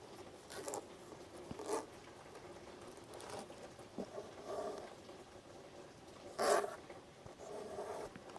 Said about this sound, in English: Let me trim some of this off